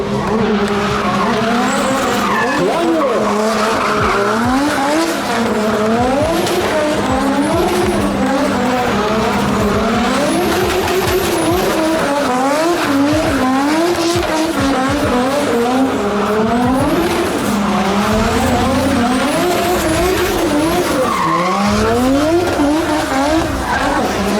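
BMW M4 drift car at a drift show event in Sokołów, engine revving hard with continuous tire squeal and skidding throughout, loud and close, rising and falling revs.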